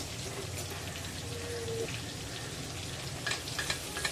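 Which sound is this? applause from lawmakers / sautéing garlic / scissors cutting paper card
sautéing garlic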